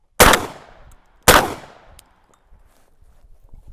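Two loud, sharp blasts from an Impala Plus 12 gauge shotgun, about a second apart, each with a long ringing decay outdoors, followed by faint rustling.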